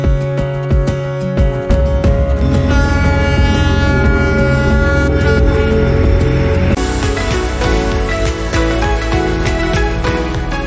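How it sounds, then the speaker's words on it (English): Train horn sounding at Hanoi train station, a long sustained tonal blast held steady for the whole stretch over rumbling rail noise, loud and close, with no talk. "The nightly train whistle still creates nostalgic feelings for those who go and those who stay in every evening."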